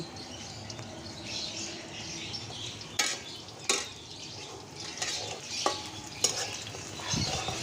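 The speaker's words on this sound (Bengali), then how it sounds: "পেঁয়াজ অলমোস্ট ভাজা হয়ে গিয়েছে" Onions frying in a pan on a clay stove on a balcony, with a steady close sizzle and several sharp clanks of a utensil stirring against the pan.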